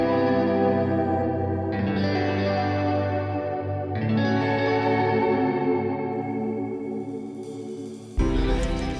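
An iMovie sound effect plays as a loud, continuous processed tone, heavily layered with chorus, distortion and echo, swelling in sections and ending with a sudden bright burst near the close.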